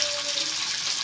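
Green chillies fry in hot oil in a pan, giving a brief, steady hiss of sizzling with no voices.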